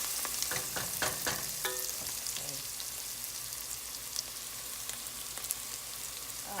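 Garlic frying in a home kitchen pan for pasta fazool, a steady sizzling crackle that holds throughout with brief louder spatters near the start, close and moderately loud, no talking.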